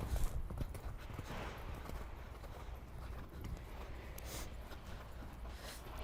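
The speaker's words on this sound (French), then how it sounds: "Avance un petit peu plus au trot." A horse trotting in a jumping-practice arena ahead of a competition, its hooves clip-clopping in a quick steady rhythm, soft and somewhat distant, with faint ambient noise and no talk.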